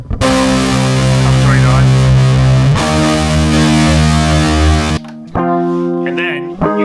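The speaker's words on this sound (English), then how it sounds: "I'll turn on the distortion for the left guitar" A loud, sustained distorted electric guitar tone from an Alesis VI49 keyboard holding thick chords, shifting pitch twice, then cutting to a cleaner sound near the end.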